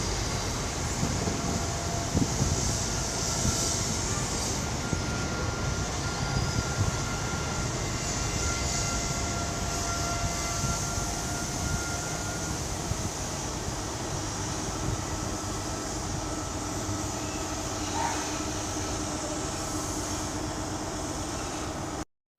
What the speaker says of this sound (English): Departing now is 43 149 with the 1300 service to Bristol Temple Meads